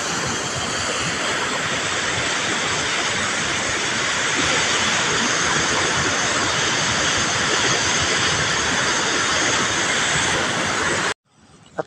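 Powerful, continuous roar of water rushing from the opened Lumbayao dam, loud and close, steady throughout before cutting off abruptly at the end.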